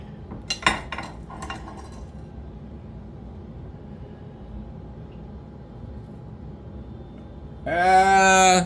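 A knife cuts a melted cheese item in half, giving a couple of sharp clinks against a plate near the start. Quiet follows, then a loud, tonal, bleat-like sound closes the clip.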